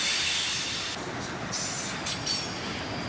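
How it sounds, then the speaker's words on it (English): Canadian Pacific boxcar wheel sets roll around a curve as a freight train accelerates out of town, a loud continuous rushing roar with a high squealing tone and faint rhythmic clacks, close by. "it was quite loud with these wheel sets coming around this curve"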